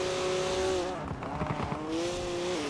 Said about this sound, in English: I guess that BMW is quite loud for being a little four-banger